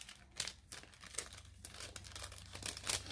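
A small scrapbooking paper pouch being worked open, with a run of close, quiet crinkling and tearing rustles over a low steady hum.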